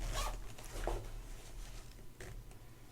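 A short, quiet zipper pulled a few times in quick scratchy strokes, close by, with soft rustling between.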